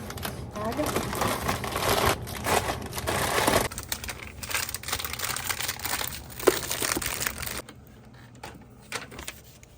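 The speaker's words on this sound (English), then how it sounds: "I just put the vacutainers in this plastic bag" Close, continuous crinkling and rustling of a plastic bag holding vacutainer blood tubes being handled in a clinic, loud and busy, easing off toward the end.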